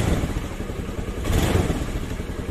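A motorcycle engine revs up close, a dense rough rumble that rises briefly in the middle and settles again, with no talking over it.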